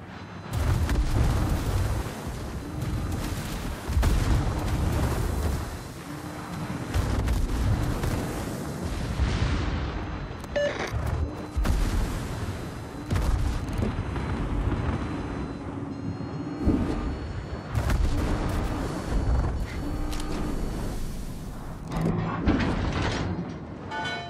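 Heavy naval gun salvos boom from a warship during a World of Warships battle with the Italian battleship Cristoforo Colombo, loud repeated blasts and rumbling over a continuous low engine and sea drone, no talk.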